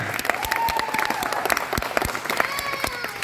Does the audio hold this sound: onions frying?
no